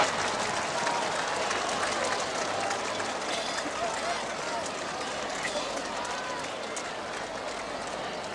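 More than 60,000 spectators at VFL Park cheering at a 1982 Australian football match, a dense roar of crowd noise filling the whole stretch, with a commentator's voice running over it.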